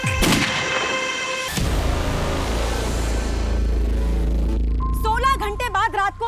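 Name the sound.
gunshot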